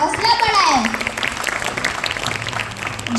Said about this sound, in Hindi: जोरदार तालियों से अंशिका का हौसला बढ़ाए।